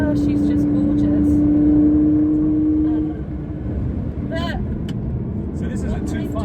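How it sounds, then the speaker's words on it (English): A 2005 Lamborghini Gallardo with a manual gearbox drones loudly at a high, steady pitch, then drops and settles into a lower rumble as it shifts gear, the engine not sounding right on gear changes. "the engine isn't sounding right when I'm changing gear"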